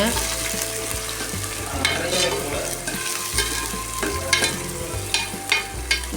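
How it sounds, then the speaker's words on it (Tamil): Small onions fry in a pan for chicken gravy, giving a continuous loud sizzle with periodic scraping stirs, close and without talk. "நல்லா வதக்கி விட்டுறணும் நல்லா வதக்கிடுங்க"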